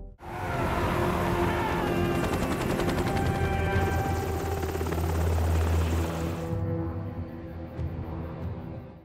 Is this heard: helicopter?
yes